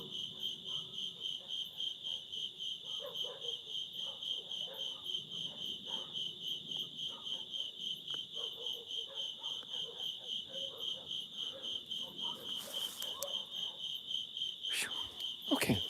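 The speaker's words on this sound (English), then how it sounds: "So I would try to make a video to focus on the crickets" Crickets chirp steadily at night in a continuous pulsing, high-pitched trill, close and even throughout, with faint background rustles and a brief louder knock near the end.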